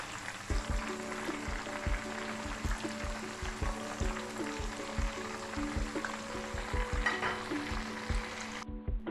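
Chicken roast frying in a pan, browning on its second side with a steady hiss and sizzle, broken by regular clicks of stirring or turning in a quiet kitchen with no talk.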